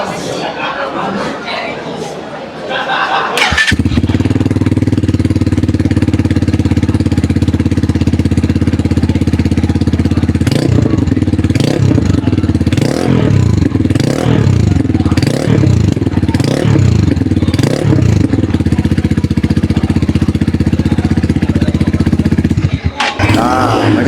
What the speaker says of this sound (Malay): Jom kita start dulu motor ni